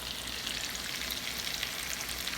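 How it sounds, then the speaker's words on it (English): Seasoned catfish fillets cooking in half a stick of butter, a steady close sizzle and crackle of frying throughout with no talking. "my seasoned catfish fillets over here, cooking in half a stick of butter"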